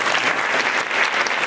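Steady, dense applause from a conference audience clapping for a set of presenters, loud and sustained throughout with no talk over it.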